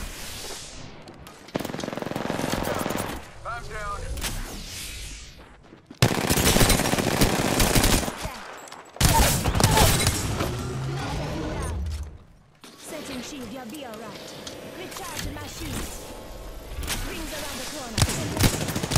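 Loud, sustained video game gunfire with rapid machine-gun bursts and scattered single shots, broken by brief pauses, with a voice talking over parts of it.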